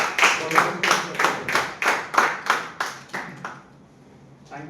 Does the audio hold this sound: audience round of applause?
yes